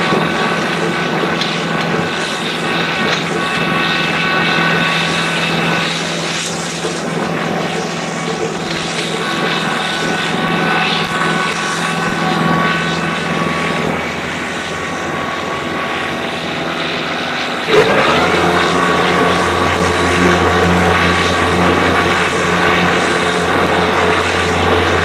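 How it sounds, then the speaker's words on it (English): A steady engine drone runs throughout, loud and close, from a 2022 Kubota LX3310HSD compact tractor mowing, with a sudden shift in pitch and level near the end. "Tractor really does mow nice, handles nice"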